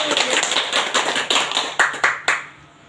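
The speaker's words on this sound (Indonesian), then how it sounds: "Kita beri tepuk tangan terlebih dahulu." Classroom students clapping together, a short run of uneven, loud claps that tapers off and stops near the end, with a little background voice.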